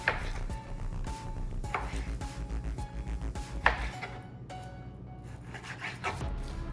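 A knife chopping meat into 2-inch cubes for a meat sauce, with repeated sharp blade strikes on a cutting board at an irregular rhythm, close and clear, alongside faint scraping and handling sounds.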